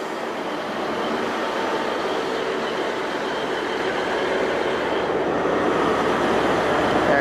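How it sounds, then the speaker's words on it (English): Class 43 HST diesel train on a Great Western Railway Swansea service, a loud steady rumble with rapid rhythmic wheel clatter building slightly over several seconds, heard up close without talking. "43026 with Michael Evis on the nameplate forms the front of the Swansea service."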